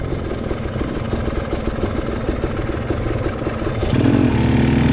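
A pit bike engine runs nearby on a motocross track with a rapid, sputtering beat, then climbs to a louder, higher rev near the end.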